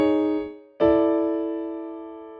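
Chords sound on what seems a piano or keyboard, a semitone passing chord resolving to the home 1 chord: a brief sustained chord, a short gap, then a loud struck chord ringing out and slowly fading, with no talk.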